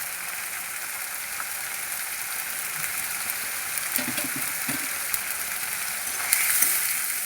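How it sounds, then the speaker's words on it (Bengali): Cumin, green chili paste and turmeric frying in a pan, a faint steady sizzle with a few soft clinks of stirring partway through. "এবারে ভালো করে মশলাটা কষিয়ে নেব।"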